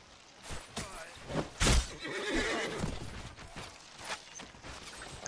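A horse in the medieval combat game Mount and Blade: Warband whinnies loudly amid hoof clip-clops and mechanical clatter, with several sharp bursts and a louder neigh near the middle.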